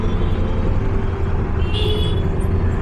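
Inside an auto rickshaw moving through road traffic, a loud, steady engine drone and road rumble fill everything, with faint passing vehicles and a brief higher whine, no talk.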